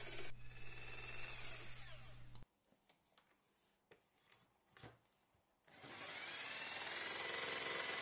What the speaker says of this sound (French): Pour cela, j'utilise la scie sauteuse.